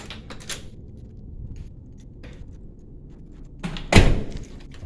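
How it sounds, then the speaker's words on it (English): Door in a hotel or apartment building is shut and locked, with a few soft handling clicks and rustles leading up to one loud close thud near the end. "Securely lock the door."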